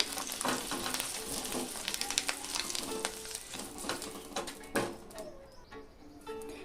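Eggs fry in a pan with a quiet, continuous sizzle and a few light clicks and scrapes, as if being stirred or lifted.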